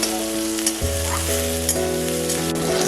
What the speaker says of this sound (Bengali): পেঁয়াজগুলোকে লাল লাল করে এবার ভেজে নেব।